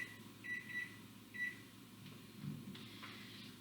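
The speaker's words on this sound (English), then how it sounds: "And I will set my kitchen timer for 15 minutes." A kitchen timer being set during home baking gives two short electronic beeps in a quiet room, faint against a low background hum, followed by soft handling noises.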